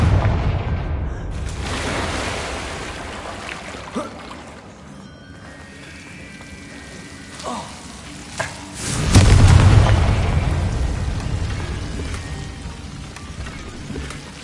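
A Confringo fire spell explodes in Hogwarts Legacy with a loud, deep boom midway, set against steady low rumbling ambience and a few smaller thuds earlier.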